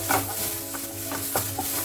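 Roasted fenugreek seeds are stirred into a pan of chole curry, soft steady sizzling broken by several quick scraping stirs, close by with no talk.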